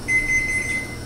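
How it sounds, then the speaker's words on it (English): A kitchen timer alarm goes off nearby as a steady, high, thin electronic tone that lasts about a second over a quiet room. "that's my timer"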